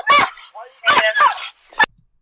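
Police K-9 dog barking and yipping during an arrest, several sharp, loud barks in quick bursts close by, with a final short yelp.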